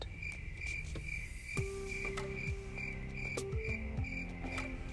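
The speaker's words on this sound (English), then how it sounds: "It's crickets!" Crickets chirp in steady, rapid pulses at a constant pitch, a thin repeating trill heard close and clear over a soft background, with some faint knocks and sweeping tones mixed underneath.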